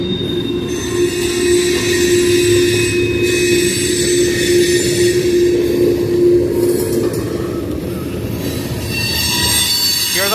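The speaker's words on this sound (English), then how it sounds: "Here's our boy, you can see stopping here." Train braking to a stop at a railroad crossing, with loud sustained wheel squeal over heavy rolling rumble that fades out toward the end.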